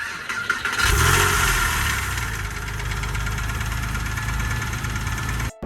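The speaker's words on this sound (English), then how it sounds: "it's the first start video, and you can clearly hear the engine knocking." A Porsche 996 911 engine cranks and catches on its first start, then idles loudly with a rough, rhythmic knocking running through it until it cuts off abruptly.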